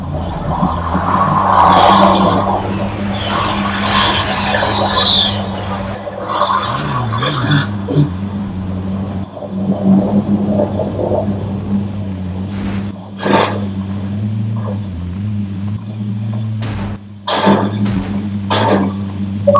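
Vehicle engine in Call of Duty Warzone droning steadily with pitch swells as it drives, a few sharp in-game impacts and bursts later, under occasional player voices.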